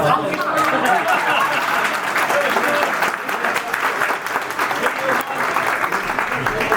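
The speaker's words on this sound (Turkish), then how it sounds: "Bir kere alkışlar zayıf oluyor." An audience applauds at an anniversary celebration gathering, with steady, moderately loud clapping running throughout and faint chatter mixed in.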